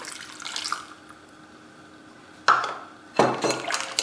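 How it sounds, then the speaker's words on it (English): Milk is poured into whisked pancake batter for apple pancakes, giving two short liquid splashing bursts with a faint trickle between them, close and fairly loud against a quiet kitchen. "At this stage we will add about 1/4 cup of milk into it."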